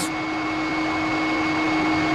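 A Dyson Small Ball upright vacuum cleaner runs with a steady, loud motor whine and airflow hum, continuous throughout and heard alone without any voices.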